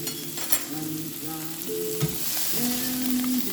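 Chopped onions sweat in a hot pan with a steady, close sizzle, while occasional utensil clinks and stirring scrapes come through and a faint tonal hum runs beneath.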